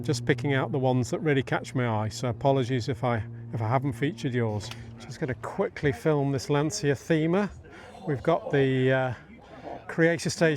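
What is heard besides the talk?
No everyday noises stand out.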